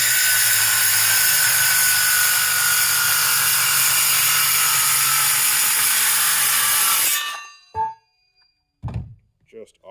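A saw fitted with a Diablo Steel Demon blade cuts through steel, giving a loud, sustained whine and grind that stops sharply partway through, followed by a few clunks and brief handling noises.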